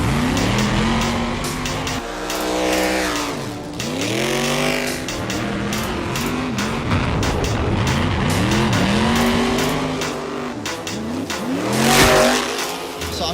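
Stunt car engine revving hard with repeated rising and falling sweeps, plus bursts of tire squeal and skidding, loud and close throughout with no talk.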